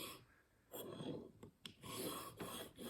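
A single-bevel broadhead blade, a Rocky Mountain Specialty Gear Cutthroat, is drawn across a finer sharpening stone in several close, quiet rasping strokes separated by short pauses, with no speech.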